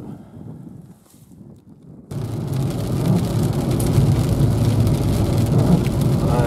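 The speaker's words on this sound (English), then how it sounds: "It's been raining like this all week." Heavy rain pours steadily and loudly, a dense unbroken hiss that starts suddenly after a quieter stretch of murmur, with no speech, during a trip in Värmland.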